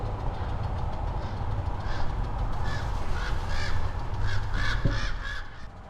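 Several crows caw overhead at a cemetery, their harsh calls repeating at moderate distance over a constant low outdoor rumble.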